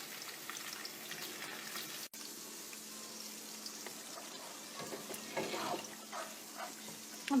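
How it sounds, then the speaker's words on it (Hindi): Okra (bhindi) frying in oil for bhindi gosht, a faint, steady hissing sizzle with brief soft bubbling swells and a small clink near the end. "हम अपनी बाकी भिंडियों को भी फ्राई कर लेते हैं इनमें।"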